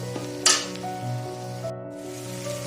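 Yam frying in a pan, sizzling steadily, with a brief louder hiss as water is added, and a cut later on; close and clear, no talk.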